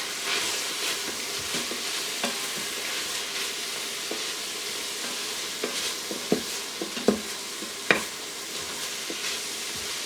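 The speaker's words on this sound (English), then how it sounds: "So I'm going to add that all and get it mixed in with the vegetables." Spices stirred into vegetables in an Instant Pot for a gluten-free, dairy-free chicken and sausage jambalaya, with a steady soft sizzle and a few sharp scraping clinks of the spoon near the end.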